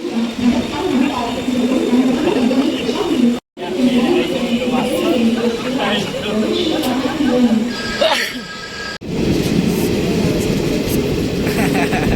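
Continuous rumble and rattling of a moving train departing Dadar fills the clip, with people talking loudly over it and a couple of brief cut-outs.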